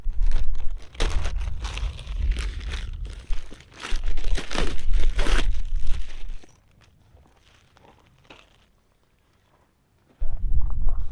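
An Arcturus aluminum survival blanket is unpacked and handled, giving loud, close crinkling and rustling bursts for several seconds before falling nearly silent, then crinkling again at the end.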